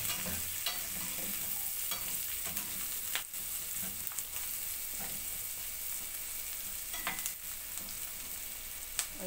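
A vegetable dish frying in a pan, with steady sizzling under repeated scraping and clacking strokes of stirring, close and fairly quiet, without talk.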